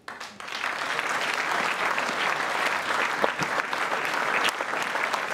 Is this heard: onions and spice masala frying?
no